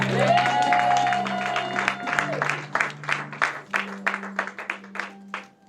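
Church congregation applauding during a sermon, a burst of clapping that thickens into a busy patter, heard over a sustained organ-like tone and fading into uneven claps toward the end.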